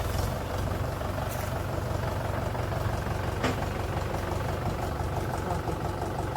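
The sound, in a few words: tractor engine idling, sugarcane harvest tractor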